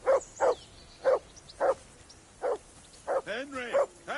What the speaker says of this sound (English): The dog's barking. Obviously wants food.